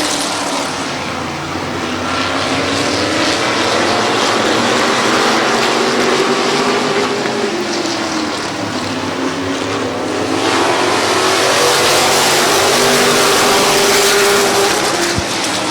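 Race cars roaring around the oval at Midvale Speedway, a dense, continuous engine drone rising and falling as the pack sweeps past, loud and steady throughout with no voice over it.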